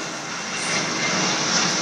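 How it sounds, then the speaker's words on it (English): A passenger airplane passes overhead near Stanmore railway station in Sydney, a loud, broad jet roar that swells gradually and holds steady, with no talking over it. "And there's a plane."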